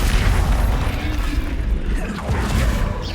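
Confringo blasting spell in the game Hogwarts Legacy, a loud, dense explosive rumble that stays heavy for about three seconds, with crackling bursts over it.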